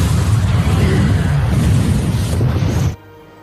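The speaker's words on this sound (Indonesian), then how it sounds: "konslet yang membuat nitrogen itu meledak membuat seluruh ruangan terbakar" In a film scene, a short circuit makes nitrogen explode and sets a room ablaze. A loud, dense roaring blast rumbles continuously for almost three seconds, then cuts off abruptly into near silence.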